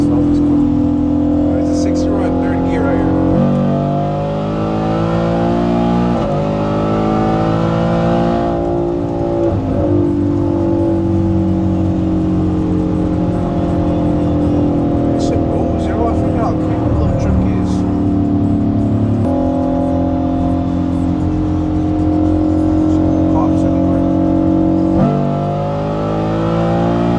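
A tuned Ford F-150 pickup with full bolt-ons and 3.31 gears accelerates hard in third gear, its engine drone loud and close and rising in pitch over long pulls, broken by a few shifts or lifts, while the driver talks over it.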